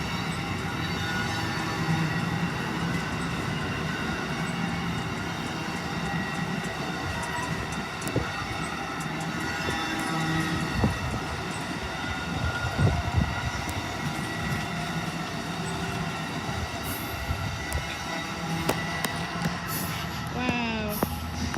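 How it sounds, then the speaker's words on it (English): Amtrak 89 passenger train rolling past milepost 8.2 at Staples Mill, a steady rumble with clicking wheels and occasional metallic squeals, heard from nearby with some faint talk. "That was a good train, son."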